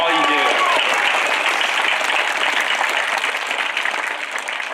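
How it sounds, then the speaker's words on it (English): A graduation crowd in a high school gym gives the announcer another round of applause, sustained loud clapping that starts with a brief voice and slowly tapers off. "So let's give him another round of applause"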